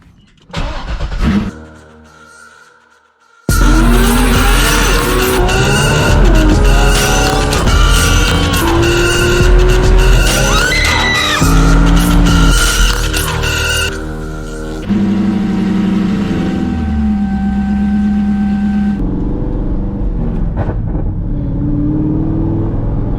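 A C6 Corvette out on its first cruise, heard from the driver's seat: the engine roars loudly and steadily as the car pulls away and accelerates through the gears, with tire noise and rising, falling revs throughout.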